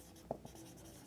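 Writing on a board during a physics lesson, faint taps and strokes of the writing tool, one sharper tap followed by a softer one, then a light scratchy trail in a quiet room.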